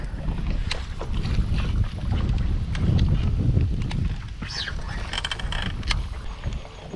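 Steady wind rushes and buffets the microphone outdoors on a low creek while fishing, a continuous low roar with faint water sounds and occasional light knocks.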